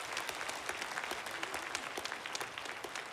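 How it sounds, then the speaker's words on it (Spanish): A church congregation applauds at a religious assembly, a dense, steady round of many hands clapping together, fairly quiet and uninterrupted, with no speech over it. "Demos grandes aplausos de gloria a Dios por guiarnos en el evento de hoy."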